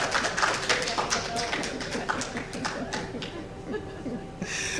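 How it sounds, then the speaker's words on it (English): An audience clapping at a university research conference, a dense patter of applause that thins out toward the end, heard at moderate distance with some voices mixed in. "I knew you would clap for that."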